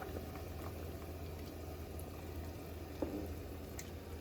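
Korean spicy beef soup (yukgaejang) with scallions at a steady rolling boil, a continuous close bubbling with faint pops and no voices.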